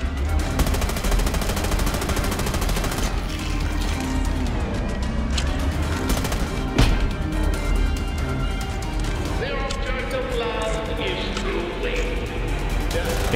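Loud, rapid gunfire from the VR video game The American Dream, with dense bursts of shots and machine-gun rattle running almost nonstop over game sound effects.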